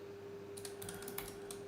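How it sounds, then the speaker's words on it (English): Quick soft keystrokes on a computer keyboard, a short close cluster of clicks over a steady low electrical hum. "I hate typing, by the way"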